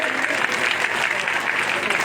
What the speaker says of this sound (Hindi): जोरदार ताली बजाकर के स्वागत करिए